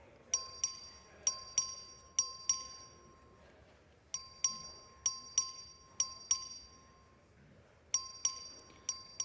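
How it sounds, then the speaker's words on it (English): Voting bell rung repeatedly by the clerk on the floor of the Texas legislature, bright metallic strikes sounding in quick bursts of two to four rings separated by short pauses, with a faint room murmur beneath. "Clerk, ring the bell."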